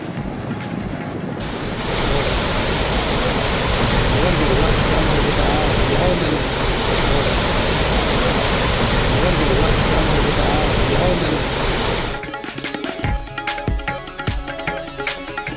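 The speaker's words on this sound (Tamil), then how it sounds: "அருவியின் சத்தம்" Jog Falls in Karnataka in flood, a heavy, continuous roar of falling water that holds steady and loud for most of the clip, then gives way to rougher, broken noise near the end.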